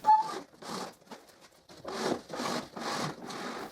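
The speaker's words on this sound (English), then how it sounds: "now I move the plywood board so I can keep cutting it" A plywood board slid across a table in a workshop, a series of rhythmic rubbing scrapes, several back-and-forth strokes, close and moderately loud with no talk.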